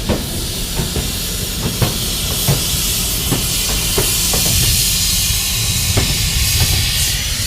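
13151 Kolkata–Jammu express at Shahganj station platform, a loud continuous roar and hiss with rhythmic clacks of wheels over rail joints, close by, no voices.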